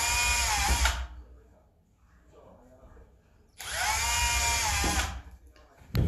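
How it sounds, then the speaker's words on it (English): A power drill bores holes in wood for a birdhouse, two loud whining bursts of about a second each separated by a quiet pause, with faint handling noise between them. "okay, so I'm gonna drill three holes in those spots."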